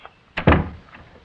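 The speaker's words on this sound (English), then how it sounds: "you better come in and shut the door" A door is shut in an old-time radio drama: a soft knock-like transient, then a heavier, louder thump with a brief rumbling decay, heard close and alone with no talk over it.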